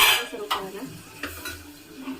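Spices for a tadka sizzle and crackle in hot oil in a pan, with a few sharp spatters and utensil scrapes over a steady frying hiss, close and fairly loud, no talk.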